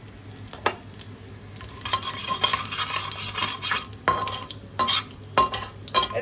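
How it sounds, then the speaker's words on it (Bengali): Bay leaf, dried chilli, whole garam masala and cumin crackle in hot oil while a spatula stirs and scrapes the pan in uneven strokes, sizzle swelling and dropping, up close with no talking. "তেজপাতা, শুকনো লঙ্কা সহ হোল গরম মশলা দিয়ে দিলাম আর জিরে দিয়ে দিলাম।"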